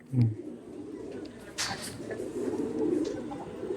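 Madrasi pigeons murmur with low, continuous cooing inside a loft, several birds overlapping at moderate distance, with a brief louder thump near the start and light rustling.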